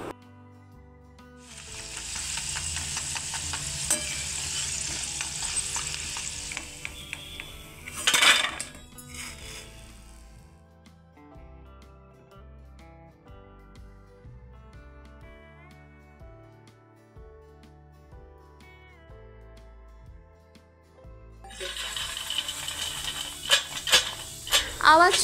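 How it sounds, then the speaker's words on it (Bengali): Chini kathi sticks frying in refined oil over a low flame give bursts of crisp bubbling sizzle at the start and end, with a metal clink in between and a long quieter stretch of background music. "রিফাইন্ড অয়েলে একদম লো ফ্লেমে চিনিকাঠিগুলো আমি ভালো করে ভেজে নিচ্ছি"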